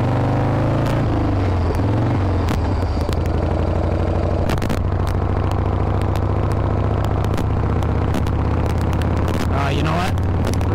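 Vintage Harley-Davidson Shovelhead motorcycle picking up speed on the road, a steady low engine rumble with mechanical clatter and sharp knocks throughout, recorded close from the rider's position.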